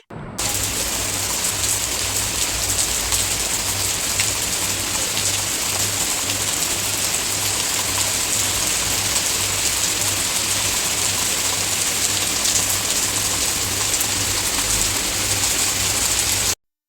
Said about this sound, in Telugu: ఇగో ఇక్కడ వర్షం వస్తుంది కదా